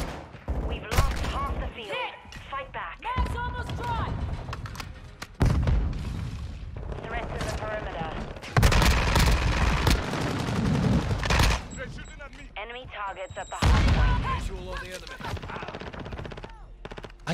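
Rapid bursts of automatic gunfire and scattered shots in the shooter game Modern Warfare 2, loud and close, mixed with game voice callouts and a player talking between volleys.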